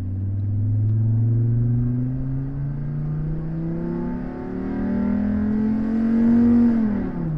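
A Chevrolet Colorado pickup with its exhaust manifold deleted accelerates hard with the air conditioning on, its loud, close engine drone climbing in pitch, easing at a shift, then rising again before dropping off.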